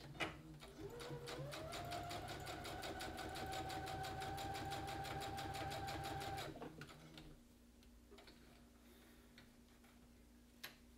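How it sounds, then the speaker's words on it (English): A sewing machine runs a regular straight stitch on a junk journal cover, its steady rapid ticking whir holding close and loud for about six seconds before stopping, leaving a quiet room with faint ticks. "I'm just going to do a regular straight stitch for this one."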